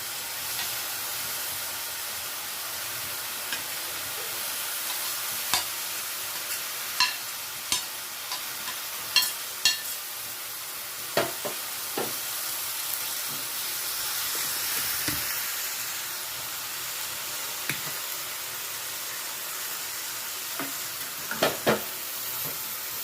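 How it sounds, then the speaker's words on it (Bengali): Marinated tomatoes, added with their juice, fry in a pan for a chutney, giving a steady hissing sizzle. Scattered spoon scrapes and knocks sound close up, and no one speaks. "এর মধ্যে এই দেখো জল সহ টমেটোটা দেবো। জলটা কিন্তু আমি পরে দেবো, এখন নয়। এটাকে একটুখানি ফ্রাই করে নিই"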